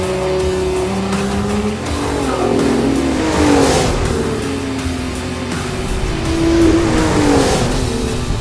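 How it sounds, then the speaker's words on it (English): A Lotus Emira sports car's engine roars and revs hard, loud and close, with rising and falling revs over several seconds and no talking. "This engine just roars."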